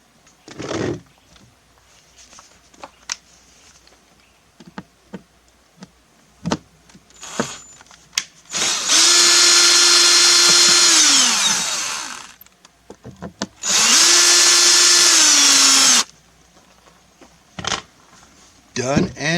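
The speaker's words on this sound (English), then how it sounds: "remove these two grommets and these two screws" Power drill driving out screws on a Predator 3500 generator: two loud, close whirring runs of a few seconds each that rise, hold steady and wind down, separated by clicks and handling noise.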